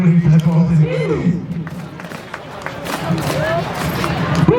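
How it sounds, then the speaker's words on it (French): A crowd applauds at a street parade, its clapping and cheering blending into a dense wash of noise. A loud voice comes through a public address system over the top of it. "On applaudit très fort, s'il vous plaît."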